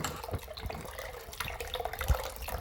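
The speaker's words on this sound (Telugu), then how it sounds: "ఇప్పుడు దీంట్లో ఇంకాస్త వాటర్ పోసి పలుచగా చేసుకోవాలి." Water is poured into a dal mixture of drumstick leaves and lentils being thinned out, giving a soft, close splashing and trickling with a few brief louder splashes and no talking.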